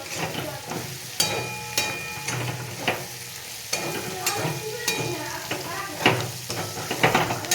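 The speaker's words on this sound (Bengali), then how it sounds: "তো এগুলো এখনও ভাজা ভাজা হয় নাই, আর একটু ভাজা ভাজা হয়ে যাক।" Beans, cauliflower and carrot stir-fry in a pan for chowmein, a close, continuous sizzle broken by repeated sharp spatula scrapes and clinks against the metal.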